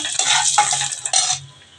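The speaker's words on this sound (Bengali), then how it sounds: "এখন আমি শুকনো লঙ্কাগুলো মাঝখানে চিড়ে নিয়েছি, দিয়ে দিচ্ছি ফোড়ন" Slit dried red chillies hit hot oil for a tempering, giving a bright, loud hiss in short bursts, each one fading quickly and ending in a quieter tail.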